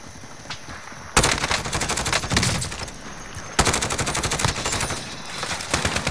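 Heavy automatic gunfire from a Call of Duty: Modern Warfare match, loud rapid bursts that start abruptly, pause briefly, then resume in a second sustained volley.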